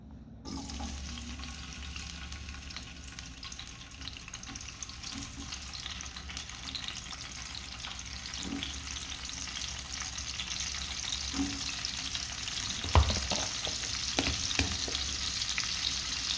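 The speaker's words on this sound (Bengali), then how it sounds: "ভাজা হতে থাক" Onions for biryani sizzle in hot oil in a steady crackling hiss, with occasional stirring clinks and scrapes of a utensil near the end.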